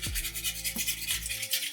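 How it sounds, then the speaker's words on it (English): Rapid rhythmic scraping of a flat blade working grime off a sink surface during a faucet replacement, close and gritty, in quick repeated strokes. "This blade just makes it so much easier to get all of that grime off."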